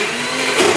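Mixer grinder running steadily with coconut and rice in the jar, a continuous loud whirring motor that rises slightly near the end.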